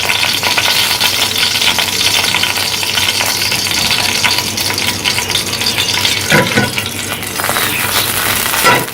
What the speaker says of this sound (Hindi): ऑयल गरम करें और उसमें ड्राई चिली, रेड चिली जो हमने रखी थी उसको तोड़कर डाल दें।